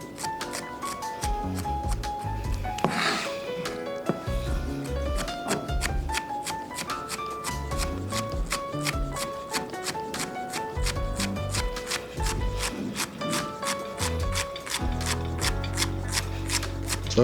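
A knife chops celery on a cutting board in quick, close, rhythmic taps that repeat steadily throughout with only brief pauses.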